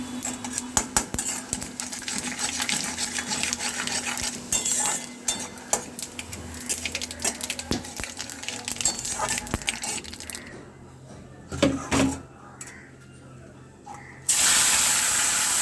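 Taro greens (kochu shak) tossed into a pan of hot oil tempered with white cumin, dried red chilli and bay leaf, giving close, busy clinks and scrapes of stirring over a steady sizzle, with a brief quieter patch before the sizzle surges back.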